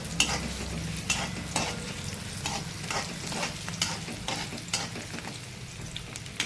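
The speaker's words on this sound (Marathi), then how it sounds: "कांद्याला छान गुलाबी रंग येईपर्यंत परतवला ना" Sliced onions stir-fried in a pan until pink for a rustic village-style chicken dish, with a steady close sizzle and repeated scraping strokes of the spatula every second or so, no talk.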